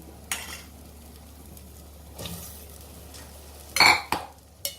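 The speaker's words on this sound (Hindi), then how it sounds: "अब इसमें हम उबले हुए छोले मिला देंगे" Boiled chickpeas stirred into fried masala in a pan while making Sindhi-style chole: quiet sizzling under a few scraping stirs and sharp metallic clinks of a spoon against the pot.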